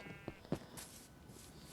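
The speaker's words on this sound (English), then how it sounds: "But yeah, I got my sheep here." Sheep in Minecraft bleat twice in quick succession, short and fairly close. Faint noise follows.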